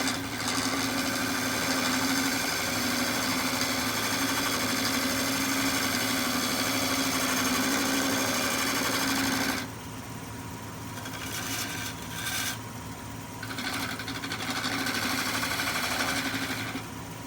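A woodturning gouge takes a light finishing cut on a spinning oak bowl, giving a steady, loud lathe drone with a grinding hiss. Partway through the tone drops and grows rougher, with brief scraping bursts.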